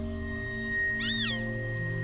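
One thin, high-pitched meow from a kitten in a mesh bag sounds briefly over a steady low background hum.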